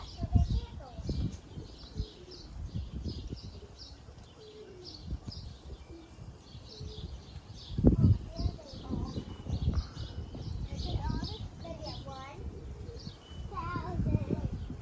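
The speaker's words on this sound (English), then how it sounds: "And 50 pigeons all over the neighborhood." Pigeons coo and chirp around a backyard pigeon loft, their calls scattered through a steady, moderately loud bed of bird noise, while people talk nearby with occasional louder bursts.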